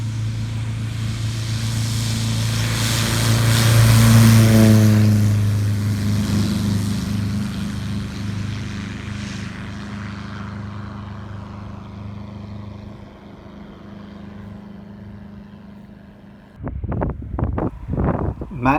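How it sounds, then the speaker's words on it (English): A Beechcraft D-18 twin-engine propeller airplane takes off from a runway, its engine drone swelling loud and then fading steadily into the distance amid wind noise, before nearby clattering knocks at the end. "It wasn't long after that Duncan took off in the D-18"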